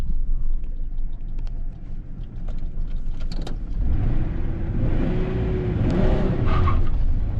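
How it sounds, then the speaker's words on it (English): A 2001 Ford Ranger with a 3-liter Vulcan V6 and five-speed manual accelerating from 0 to 100: engine rumble rises into a loud, climbing rev under load with rising pitch, heard from inside the cab. "we got a 0 to 100 run in a 2001 Ford Ranger, 3 liter V6 Vulcan with a 5-speed manual"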